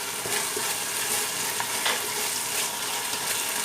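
Egg bread chilli being stirred with tomato sauce in a hot pan, a steady close sizzle with scraping stir strokes throughout, no voices.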